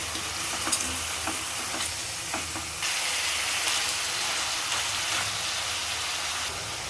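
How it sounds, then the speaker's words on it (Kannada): Chicken masala with salt fries in a pan for a mint chicken gravy, a continuous sizzle and hiss with a few scraping stirs, growing a little louder midway. "ಉಪ್ಪು ಹಾಕ್ಕೊಂಡು ಚೆನ್ನಾಗಿ ಫ್ರೈ ಮಾಡ್ಕೊಳ್ಳೋಣ."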